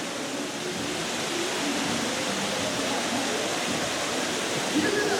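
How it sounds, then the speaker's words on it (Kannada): A rocky waterfall roars in a steady, close wash of rushing water that fills every moment without pause. "ಹೇಗಿದೆ ನೋಡಿ ಜಲಧಾರೆ"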